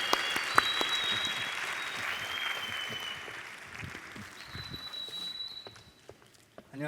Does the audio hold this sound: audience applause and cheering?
yes